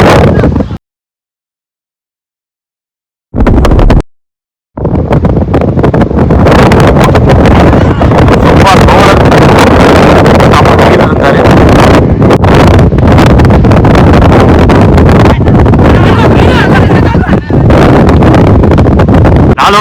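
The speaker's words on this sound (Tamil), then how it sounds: "செம்ம விண்ட் அடிக்குது." Strong wind buffets the microphone at an outdoor village cricket match, a loud, continuous roaring rumble after a brief dropout, with a commentator talking over it.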